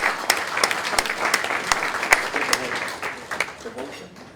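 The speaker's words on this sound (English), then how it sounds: "Please give him a round of applause." An audience at a business networking event applauds an award winner, with loud, dense clapping close by that carries on steadily before thinning out toward the end.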